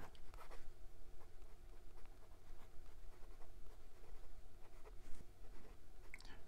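Penbbs 546 Year of the Tiger fountain pen with a fine steel nib, writing on Clairefontaine 90 gsm paper: faint, close scratchy strokes in uneven bursts with short pauses, no talking.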